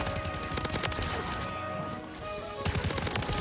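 Dual-wielded WSP Swarm submachine guns from the anime mastercraft build fire in rapid, continuous bursts in Call of Duty MW3, with a brief lull midway before dense automatic fire resumes.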